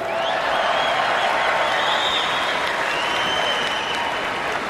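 A large convention audience applauds and cheers steadily and loudly, a dense wash of clapping that holds for several seconds.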